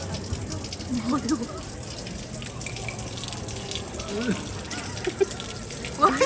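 Holy water running from an old public fountain in Dubrovnik, a steady splashing trickle with outdoor background noise and voices talking nearby.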